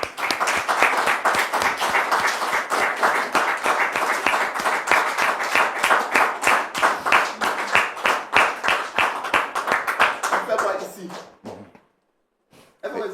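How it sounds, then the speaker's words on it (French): An audience claps loudly and rhythmically to welcome a guest, the applause building into steady beats for about ten seconds before fading out, with brief coughs and voices near the end. "Public, merci de recevoir notre frère Maxime sous vos applaudissements"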